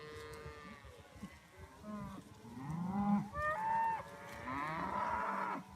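Cows moo repeatedly as they are moved out to pasture, several long, overlapping calls close at hand, rising and swelling toward the end, with no talking.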